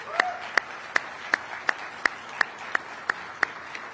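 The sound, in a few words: audience applause for competition cadre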